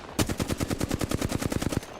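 Rapid automatic fire from a video game gun, a fast even burst of about twenty close, punchy shots in steady rhythm, loud and without talk.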